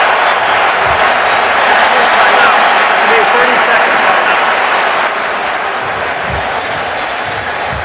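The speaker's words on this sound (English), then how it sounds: "the crowd noise is awesome" Roaring football stadium crowd at a Bengals at Jets game during a Cincinnati timeout, a loud, sustained wall of cheering and noise that holds steady throughout and eases slightly near the end.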